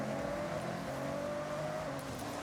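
Race car engines in the Forza Horizon 6 racing game roar steadily in a tight overtaking battle, one sustained engine tone holding close and loud throughout with no pauses.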